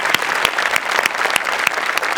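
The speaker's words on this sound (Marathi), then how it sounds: "आपल्या शो करता एकदा जोरदार टाळ्या वाजवूया" An audience at a Marathi comedy show claps, with a dense, steady round of applause and a few sharp, louder claps standing out, and no talking over it.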